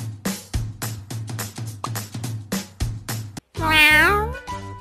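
A cartoon cat meows once, loud and drawn out, in a kitty hair salon video game, after a run of rapid rhythmic game sound effects and a brief pause.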